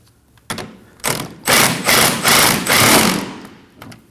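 A wrench tightens the rear lower control arm nut on a 2011-2016 Kia Optima: a short faint click, then a run of loud, rhythmic rasping strokes close by that fade to a few soft taps.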